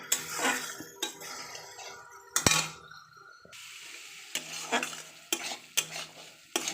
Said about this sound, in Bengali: এবার এটা একটু মশলাটা একটু হালকা করে ভাজা হোক